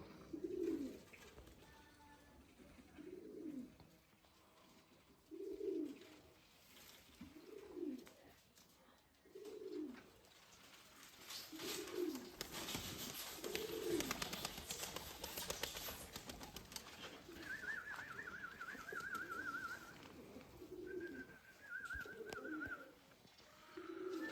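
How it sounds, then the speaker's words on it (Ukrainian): Many Mykolaiv pigeons cooing in a steady repeating rhythm, soft low calls close by, with some background noise and faint higher chirps later. "багатенько голубів"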